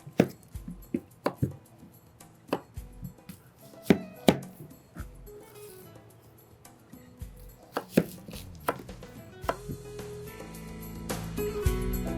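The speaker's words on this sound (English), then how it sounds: "Take the zucchini, I cut off the ends." Knife cutting zucchini on a cutting board, irregular sharp cuts and thuds with some clatter of kitchenware, close and fairly quiet, no talking.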